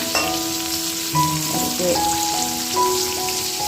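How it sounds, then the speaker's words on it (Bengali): Slices of pointed gourd (potol) fry in oil in a home kitchen pan, giving a steady close sizzle and crackle throughout, with faint tonal background sounds over it. "পটল ভাজছি।"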